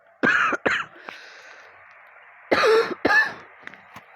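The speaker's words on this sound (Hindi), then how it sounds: "खांसी आ रही है, सॉरी।" Two pairs of short, harsh coughs, close by, separated by a quiet pause.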